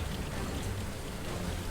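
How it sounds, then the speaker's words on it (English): Rainfall in a game, a dense, steady patter of rain on surfaces with a soft low rumble underneath, continuous and moderately quiet. "This rainfall surprised me."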